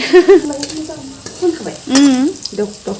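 Soybeans fry in a pan while being stirred, with loud, close sizzling, scraping strokes and squeaky tonal scrapes in uneven bursts.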